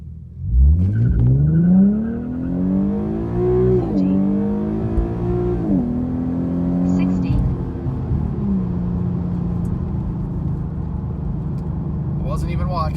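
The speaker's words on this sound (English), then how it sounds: "We started to break loose a little bit for sure because traction control did kick in, and it pulled power." An Infiniti Q50 RWD on Firestone Firehawk Indy 500 tires launches hard, the engine revving up through several gear shifts, loud and close inside the car, before settling into a steadier drone; a voice talks over it.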